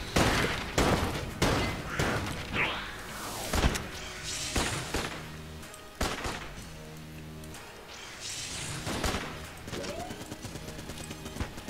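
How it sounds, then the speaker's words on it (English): Rapid gunfire and impacts in the video game Enter the Gungeon, dense bursts of shots with crashes and thuds over game music, continuous and fairly loud. "Oh, he's still shooting him!"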